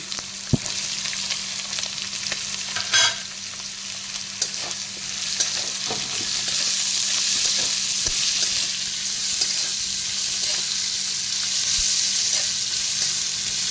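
Onion sizzles steadily in a hot pan with garlic, a continuous close frying hiss punctuated by occasional clicks and scrapes of stirring, with faint background music.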